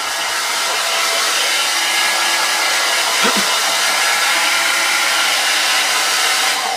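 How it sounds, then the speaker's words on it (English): A hair dryer blows steadily at close range over a layer of colour on a plate, a loud continuous whooshing roar with no pauses. "I've just given that a quick blast with the hairdryer"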